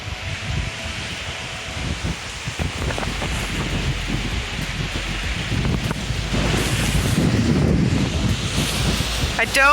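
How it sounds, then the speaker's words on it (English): Strong wind buffets the microphone on the Point Pelee shore, a constant rumbling roar with gusty bursts growing heavier toward the end, under faint background talk. "hopefully this wind does not get caught"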